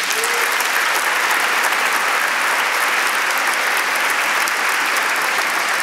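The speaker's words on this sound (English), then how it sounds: "A nice round of applause for" At a gala, an audience breaks into dense, loud, sustained applause, a close wall of clapping that holds steady from start to finish.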